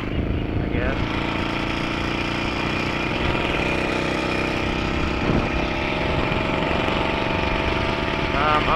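A steady, rumbling engine idles continuously at close range, a low throbbing hum with a faint ticking knock running through it.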